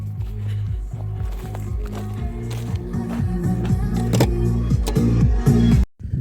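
Car driving on a farm track past soybean fields, a steady close engine drone with rhythmic thumps and rattles from the rough ground, cutting off abruptly near the end.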